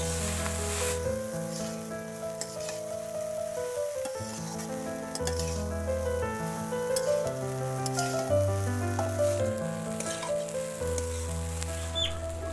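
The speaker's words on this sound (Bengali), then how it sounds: "এবারে আমি কারি পাতার সাথে চিড়েগুলো মিশিয়ে নেব।" Flattened rice tossed with curry leaves in a pan for a puffed rice dish sizzles steadily and close, with occasional stirring scrapes and no talking.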